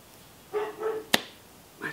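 A dog barks faintly in the background, giving two short low woofs, then a sharp click and one more distant bark, with no speech.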